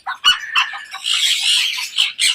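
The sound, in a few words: chicken clucking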